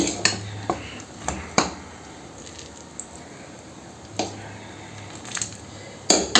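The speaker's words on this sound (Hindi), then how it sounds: "अब हम इसमें डालेंगे देसी घी" Desi ghee goes into melted jaggery in a pan: scattered metallic clinks and scrapes of a spoon against the pan, with soft squishing stirring between them, close and intermittent.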